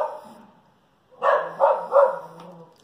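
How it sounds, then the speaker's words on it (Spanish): A dog barks three times in quick succession, fairly loud and a little distant, after a faint earlier yelp and a short silence. "Esa que escuchan ahí es mi perra que no sé a qué le ladra."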